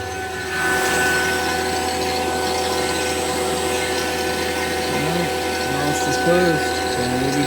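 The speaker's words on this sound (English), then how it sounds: "Alright, so our vacuum's almost done" A vacuum pump runs steadily while evacuating an air conditioning system during a compressor replacement, a constant mechanical drone with tonal hum lasting throughout, with a voice speaking briefly over it near the end.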